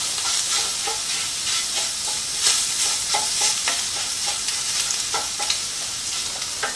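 Garlic and shredded beef frying for Cuban vaca frita: a loud, continuous sizzle broken by repeated scraping stir strokes, close and with no talking.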